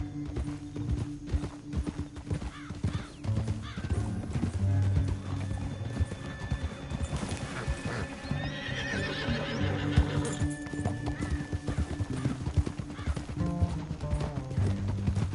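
Horse hooves clip-clop steadily through the whole stretch in Red Dead Redemption 2, with several loud neighs and whinnies rising over game music and ambience; no talk.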